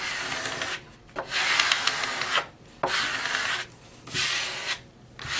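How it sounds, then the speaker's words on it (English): A small squeegee presses pre-mask tape down over vinyl lettering in repeated rasping strokes, about five firm rubbing passes separated by brief pauses, close and alone. "take a handy dandy little squeegee, squeegee it down so that I'm covering all the lettering"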